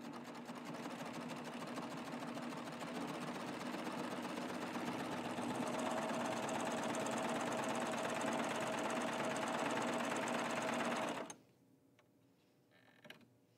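A Baby Lock Triumph serger sews and trims a garment seam with a safety stitch, running in a loud, steady, fast mechanical whir for about eleven seconds before stopping abruptly, followed by faint clicks.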